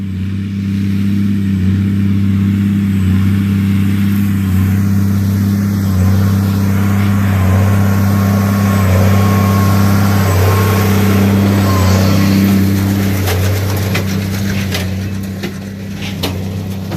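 An MX-255 tractor engine runs loud and close while baling, a heavy, rumbling drone with rising revs and some rattling clatter toward the end.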